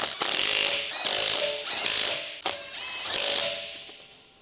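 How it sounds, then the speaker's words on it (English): An electric impact wrench with a 19mm long socket tightens the wheel bolts on a 2015 Ford Escape, sounding as three close, loud bursts of rapid ratcheting hammering, each about a second long, with no talk over them. "Use a 19mm long socket with an electric wrench to tighten the wheel bolts."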